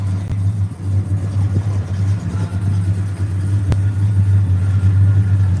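Cars moving through busy city traffic, a steady low engine rumble and road noise that holds throughout, swelling slightly near the end, with one sharp knock partway through.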